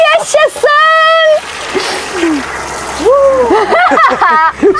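Water gushes and splashes from a caravan tap fitted with a newly replaced water pump, a steady close rush heard under excited voices and exclamations.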